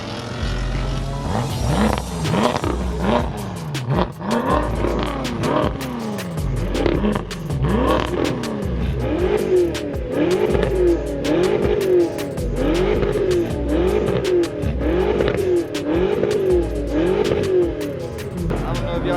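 A McLaren 570S engine revs repeatedly at a car meet, heard from the back, rising and falling in pitch in quick bursts, loud and close, with some crackle on the throttle lifts.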